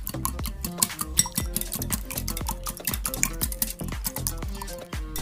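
Cooking oil and vanilla essence being mixed into beaten egg for cupcake batter, with rapid, steady scraping and tapping strokes of a utensil against a bowl, close up and continuous.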